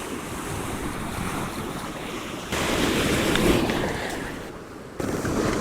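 Sea waves break on a rocky coast in a continuous roaring wash, swelling louder midway with wind buffeting the microphone. No voices are heard.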